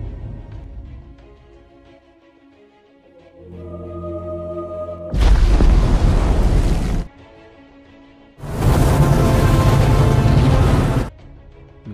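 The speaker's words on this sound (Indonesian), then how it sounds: "Dr. Serizawa memutuskan untuk mengorbankan dirinya memasangkan bom nuklir secara manual di dekat Godzilla" A nuclear bomb explodes near the monster in a Godzilla film, heard as two loud, broad roaring blasts of several seconds each, set between tense, low orchestral score.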